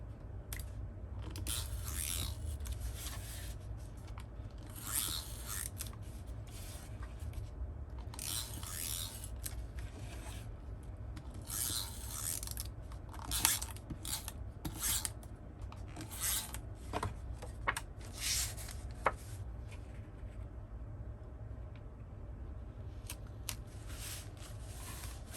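Scissors trimming paper for a paper bag journal, quiet close snipping and rasping cuts in repeated bursts separated by pauses, with some soft handling of paper.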